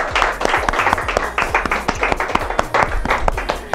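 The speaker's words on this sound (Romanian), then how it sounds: "Haideți să-i aplaudăm, da, îi aplaudăm." A small group of people claps at a surprise flower delivery of 101 roses in Hincesti, Moldova. The claps are close, loud and rhythmic, and a few voices are heard beneath them.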